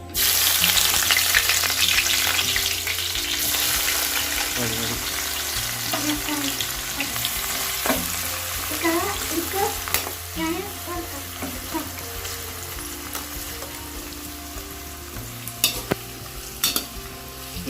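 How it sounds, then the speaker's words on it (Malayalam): Sliced onions frying in hot oil in a pan for chicken biryani, a loud continuous sizzle with frequent scraping stirs of a spoon and clinks against the pan. "ലേശം സബോള വറുത്തെടുക്കാം"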